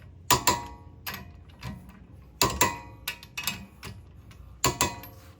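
A ratchet wrench clicks while tightening lug nuts over a 20mm hubcentric wheel spacer on a Toyota Corolla, sharp bursts of ratcheting clicks in three close groups, loud and near with no talking.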